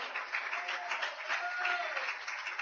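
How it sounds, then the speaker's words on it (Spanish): Congregation applause at an evening evangelistic church service, a steady dense wash of clapping sustained throughout at moderate level with no pauses. "Denle un aplauso al Señor Jesucristo en esta noche."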